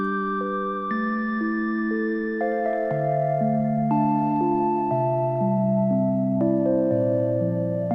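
A lo-fi remix of an anime song plays soft piano chords that change in slow steps, with a mellow, reverberant tone at a steady, moderate level.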